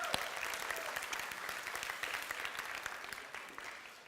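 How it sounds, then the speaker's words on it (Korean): A church youth congregation applauds after a service program, a fairly faint, dense spatter of many hands clapping steadily that slowly tapers off toward the end. "우리 수고한 모두를 위해서 박수 한번 드립시다."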